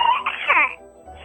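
A person's voice imitates the silly, squeaky crow of a small young rooster, a short strained warbling cry lasting about a second.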